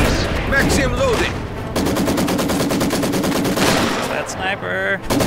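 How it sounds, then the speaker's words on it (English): A Maxim heavy machine gun rattles off a sustained rapid stream of shots in a strategy video game, loud and close, with in-game voices and other battle sounds mixed around the firing. "HMG crew ready to fire."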